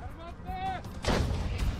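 A sharp, heavy boom from an M777 howitzer firing in the Russia-Ukraine war bursts in after a second of muffled murmuring, followed by a rumbling roll that lingers to the end.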